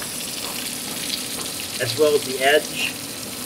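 Swordfish sizzles as it pan fries in butter, giving a steady close hiss with brief louder spatters, while a voice briefly talks over it.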